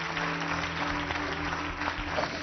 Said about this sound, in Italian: Un applauso a Kasia Smutniak per la sua analisi.